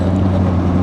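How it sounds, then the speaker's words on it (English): A vehicle engine revs steadily close behind, a low continuous drone with no speech over it. "Someone's revving behind me."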